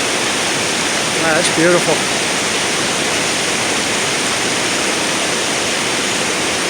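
Class 5/6 whitewater rapids roar in a loud, steady broadband rush, with a brief spoken remark near the start.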